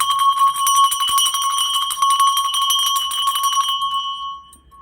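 A school bell rings loudly and steadily with a bright, continuous metallic tone for about four seconds, then cuts off, leaving a faint ringing tail and near silence.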